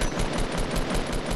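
Rapid automatic gunfire in Fortnite, a fast continuous rattle of evenly spaced shots, loud and close, with no talking over it.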